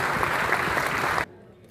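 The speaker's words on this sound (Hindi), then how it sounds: "मैं चाहूंगा कि ताली जब तक बजती है" Audience applause at an indoor Indian gathering, dense and even clapping from a crowd that stops abruptly after a little over a second, leaving only faint room noise.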